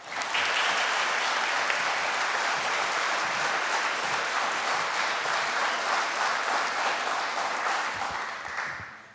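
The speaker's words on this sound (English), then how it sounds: "let's raise our hands in applause, not just for us, the graduates, but for our incredible teachers" Sustained applause from a graduation audience at St. Thomas More Catholic School honoring teachers, a dense even wash of many hands clapping at steady loudness, tapering slightly at the end.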